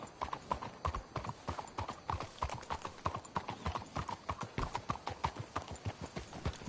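Horses trot along in the Red Dead video game, their hooves beating a quick, steady clip-clop rhythm close by, with a faint neigh mixed in and no speech.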